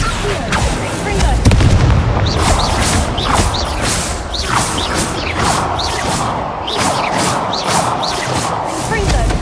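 Repeated booming Confringo blasting-spell explosions in the wizard game Hogwarts Legacy, loud and near, blurring together with a dense, continuous clamor of combat effects.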